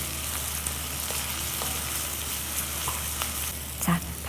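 Onions sizzle and fry slowly in a pan for a vegan brown-rice tteokbokki, a constant crackling hiss with occasional stirring clicks and a louder scrape near the end.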